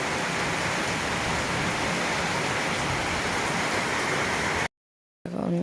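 Night rain falls on a tin roof, a dense steady hiss of drops that runs unbroken for most of the clip, then cuts out abruptly before a quieter snatch of rainfall returns at the end.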